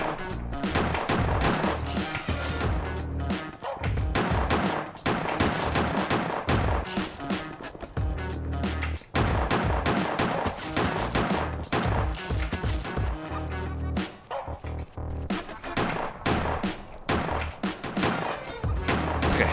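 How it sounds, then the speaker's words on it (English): Dense, nearly continuous gunfire from a Roblox Base Battles match, including a hand cannon, with overlapping shots and impacts crowding together at close range for the whole stretch. "It's like a handgun fight."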